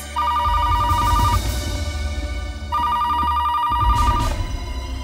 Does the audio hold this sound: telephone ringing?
yes